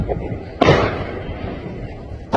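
Two loud firecracker blasts, fired upward, pop one near the start and one at the end, over a noisy background of crowd murmur and voices in the Al-Aqsa Mosque compound.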